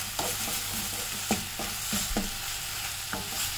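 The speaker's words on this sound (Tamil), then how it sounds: "இந்த மாதிரி நல்லா மிக்ஸ் பண்ணிட்டு ஒரு 2 நிமிஷம் மட்டும் நல்லா நம்ம வதக்கலாங்க." A drumstick leaves mixture is sautéed in a pan, with a quiet, steady sizzle and several soft, sharp knocks and scrapes of a stirring spoon spaced irregularly through it.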